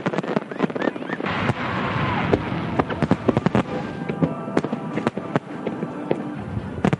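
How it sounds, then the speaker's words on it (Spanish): Fireworks are launched from barges on the East River, with a dense run of crackling pops and bangs over a continuous rumbling background throughout. "los fuegos no se lanzan desde Manhattan, sino desde barcazas que se encuentran ubicadas en East River"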